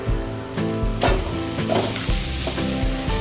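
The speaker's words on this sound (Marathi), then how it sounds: "थोडासा गरम मसाला घालूया आता आपण हे चांगलं परतून घेऊया उकडून घेतलेला बटाटा घालूया" Spice mix with turmeric and garam masala sautéed with boiled potato in a hot pan, a loud continuous sizzle broken by repeated scraping stirs of a spatula, close and without speech.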